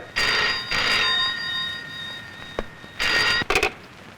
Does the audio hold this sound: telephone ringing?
yes